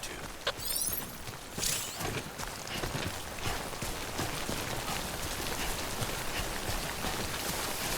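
Timefall rain in the video game Death Stranding, a steady hiss of rainfall pattering on surfaces with scattered drips, continuous and fairly close.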